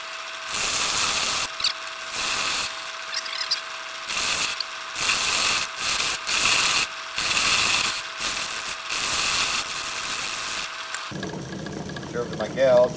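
Wood turning on a lathe as a gouge squares off the end of a ring blank, a steady loud whirring cut broken into repeated bursts with short pauses, and a quieter different texture near the end.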